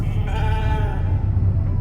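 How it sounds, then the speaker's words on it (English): A sheep in the video game The Alters bleats loudly and close, one sustained wavering cry held throughout with no talk over it. "Never thought I'd be so glad to see a sheep."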